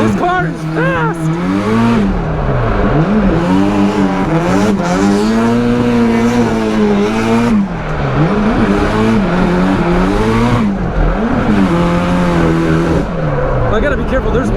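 A Nissan S13 drift car accelerates hard up through the gears, its engine loud and close with rising and falling revs across repeated shifts, the driver talking over it.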